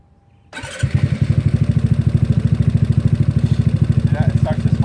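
A GY6 scooter engine cranks and catches, then settles into a loud, close, rapidly pulsing idle, with brief voices faint underneath.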